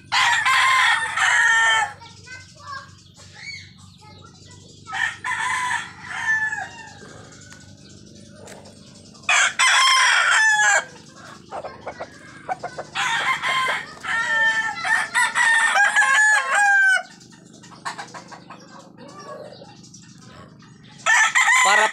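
Roosters in a backyard gamefowl yard crow repeatedly and loudly, with several long cock-a-doodle-doo calls spread across the clip. Softer clucks and a low background hum fill the gaps between crows.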